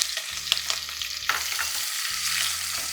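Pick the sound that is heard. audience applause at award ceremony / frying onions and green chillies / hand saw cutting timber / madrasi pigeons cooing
frying onions and green chillies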